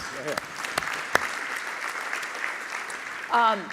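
An audience at a conference lunch keynote claps steadily in sustained applause, with a voice speaking briefly at the start and again as it ends.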